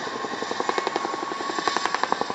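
RAF Chinook twin-rotor helicopter hovering at an air display, its steady rapid blade thump pulsing loud and close over a continuous turbine whine, with no voices.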